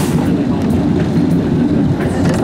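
A mine-train-style roller coaster at an Italian amusement park rumbles along its track in a continuous loud, clattering roar, close by, with no talk.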